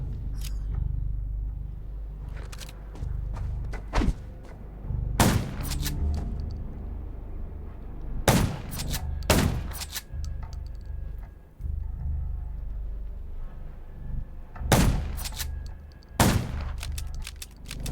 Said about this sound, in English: Gunshots will attract